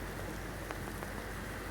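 Rain falls steadily outdoors, a faint, even hiss of drops with a few slightly sharper patters, no voices present.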